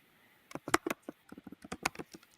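Computer keyboard typing in an indoor setting: a quick run of light, close clicks and key taps in irregular bursts, with no talking over it.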